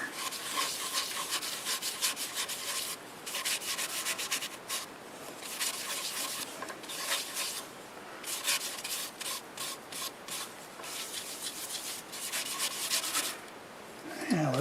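Repeated rubbing and scrubbing strokes of a cloth or pad against wood, in steady bursts with short pauses, close up and fairly quiet.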